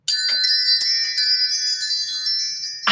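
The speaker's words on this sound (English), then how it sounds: "let's call in spirit with a little bit of wind chime time" A wind chime is struck hard and rings out loud and bright, its metallic tones shimmering and then slowly decaying for about three seconds before a sudden rustle at the end.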